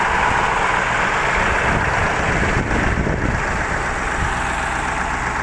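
A T-150 wheeled tractor pulling a KPS-4 cultivator in the field drones steadily and loud, a dense low engine rumble with wind noise that never lets up.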